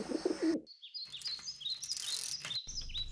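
A pigeon at a home, a few cooing and chirping calls over a short stretch, close and fairly clear, with brief gaps of near silence between the sounds and no talking.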